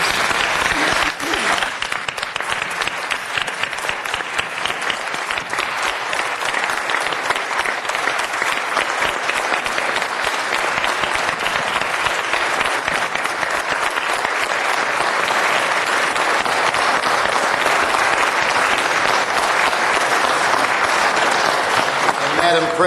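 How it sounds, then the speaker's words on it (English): A council meeting audience breaks into sustained, dense applause that keeps going without pause, loud and filling the room from start to finish. "Deserves a big round of applause for those folks."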